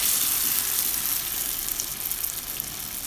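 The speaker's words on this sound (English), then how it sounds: "So we'll start by frying the akara." Dense, steady sizzling and crackling of akara (bean fritters) frying in hot oil, close and continuous with no talking.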